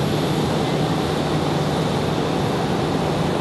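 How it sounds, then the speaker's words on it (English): An Endeavor CRJ 900 jet arriving at Raleigh Durham airport, a steady loud broadband engine roar with a low hum, unchanging throughout and heard alone. "Next arrival, Endeavor 5109 coming in from LaGuardia, an hour and 7 minutes of flight time for the CRJ 900."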